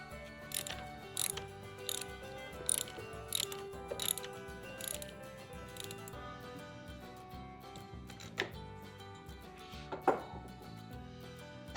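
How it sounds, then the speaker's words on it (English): A ratchet tightens a bolt on a Ducati motorcycle being rebuilt, producing runs of quick metallic clicks in repeated bursts, near and fairly quiet, with no voices. "Now what I need to do is tighten up this bolt here."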